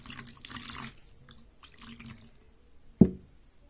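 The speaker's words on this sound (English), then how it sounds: "I'm going to wash my hands with this water, as you can see." Water poured from a glass over hands into a bowl during a school science demonstration, heard as soft trickling and splashing in two bursts, followed by a sharp knock or clink near the end.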